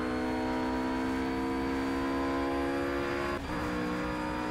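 A Ruf RGT-8 GT3 race car, about 500 horsepower, in Project Cars at Willow Springs, holds a loud, steady, high-revving engine whine with strong harmonic tones. A brief dip and gear change comes near the end, with no talking.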